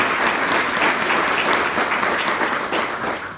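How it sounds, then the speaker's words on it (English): An audience at a State of the City address breaks into steady, full applause honoring the former mayor, loud and even throughout without speech. "deserves a round of applause for his leadership for the last"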